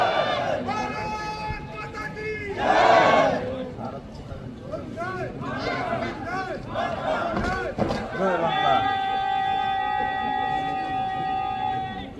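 A crowd at a political rally in Bangladesh chants slogans in loud, rhythmic unison, swelling and surging over a steady, noisy background.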